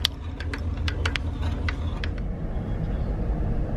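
A car engine running with a steady low rumble, close and loud, and a few sharp clicks and rattles near the start.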